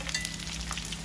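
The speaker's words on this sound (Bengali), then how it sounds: "আমাদের মুরগির পাক কি সুন্দর দেখা যায় ভাজা হয়ে গেছে" Chicken pieces fry in a pan with a loud, dense, steady sizzle throughout, close up and continuous, with no voices.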